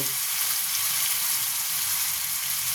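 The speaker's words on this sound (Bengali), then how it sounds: "এরপর আমি এটাতে গুঁড়ো মশলা দেব।" Ground spices hitting hot oil in a pan while cooking a fish curry with drumsticks, a steady dense sizzle and crackle of frying throughout, fairly loud and close.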